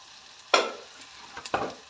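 Onion softening with salt in a pan for egg kurma, with two distinct spatula scrapes and a brief sizzle between quiet stretches.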